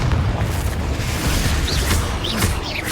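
A Confringo spell explodes during a Hogwarts video game duel with a loud, deep boom that rolls on for several seconds. Brief bright sparkling whooshes rise over the rumble, and no voices are present.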